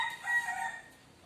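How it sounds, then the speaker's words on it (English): A rooster crows once, a short bright cock-a-doodle-doo heard at moderate distance and fading out, with no speech over it. "Chicken."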